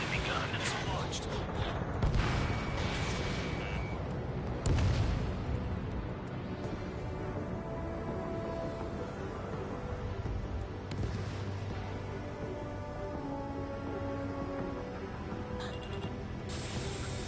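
Anti-aircraft guns fire in Ace Combat 7 gameplay, bursts of booming shots and crackling fusillades scattered over a busy battle soundscape with steady background noise.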